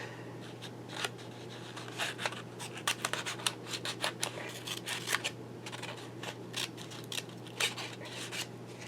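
Scissors cut out a section of a paper card for a handmade Valentine card, a quiet, close series of irregular crisp snips and rustles with no talking.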